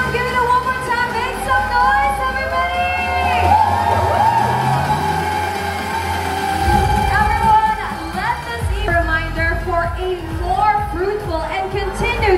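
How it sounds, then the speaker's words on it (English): A crowd at a Maybank M2U app launch cheers, whoops and applauds the team on stage, a lively, loud mix of shouts and chatter with an amplified voice over it. "How about a round of applause for our hard-working team here on stage"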